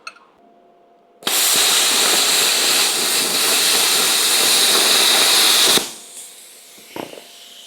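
An EX-TRAFIRE 45 HD plasma cutter slicing through steel plate starts with a sudden loud, steady roaring hiss. It holds for about four and a half seconds, then cuts off to a fading hiss and a couple of faint clicks.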